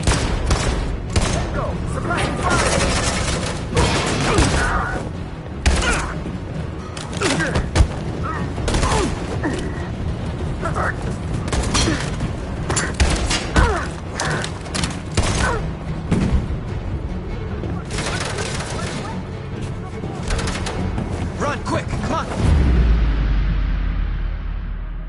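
Dense video game combat with rapid bursts of gunfire and scattered explosions, loud and close throughout, voices shouting over the battle and a heavy blast near the end.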